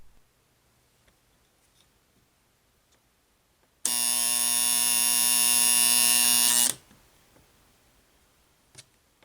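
A General Electric 8132K electric clock alarm buzzes in one loud, harsh, steady burst of about three seconds, starting and stopping abruptly amid quiet background ticks.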